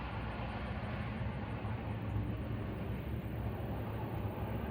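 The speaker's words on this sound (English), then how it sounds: "Just let the train go by for a second." A train passing by, a steady broad low rumble with a constant noisy roar that neither fades nor stops.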